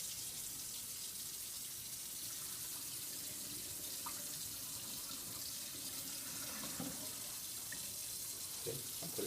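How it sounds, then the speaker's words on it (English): Liquid poured slowly into a sink after a lab safety exercise, giving a steady, soft running-water wash throughout with faint clinks near the end. "today we're going to dispose of it into the sink. So, pour it slowly"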